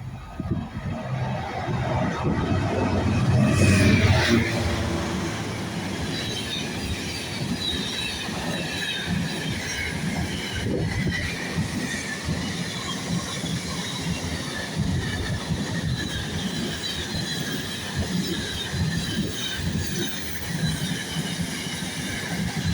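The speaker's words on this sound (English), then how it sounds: "Six 741 on a GBRF freight service from Felixstowe." A Class 66 diesel locomotive passes hauling a long GBRF freight train from Felixstowe, its engine rumbling up close, then a steady roll of wagons with wheel squeal and rhythmic clatter.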